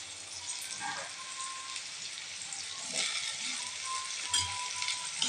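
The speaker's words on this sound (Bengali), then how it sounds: "দিয়ে দিচ্ছি কুচনো পেঁয়াজ। দিচ্ছি কুচনো টমেটো আর কুচনো কাঁচা লঙ্কা।" Chopped onion, tomato and green chilli fry in hot oil for an egg curry, a continuous close sizzle with scattered small pops and faint stirring knocks.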